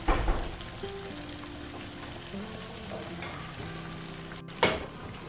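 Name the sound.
stirring okra and ogbono soup with pottage leaf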